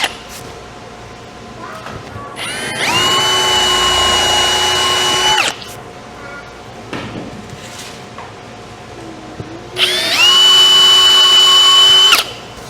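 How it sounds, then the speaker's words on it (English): A power drill bores pilot holes into wood for screws on a coffee table build. It whines in two loud, steady bursts of about three seconds each, with quiet handling noise between them. "we're going to pre-drill our holes using a bit that's smaller than the screws"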